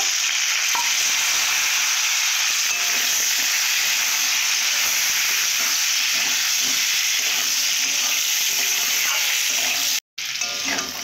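Potatoes and green peas sizzle steadily in a pan while being stirred, a dense, close frying hiss that runs almost unbroken, with one brief silent gap near the end.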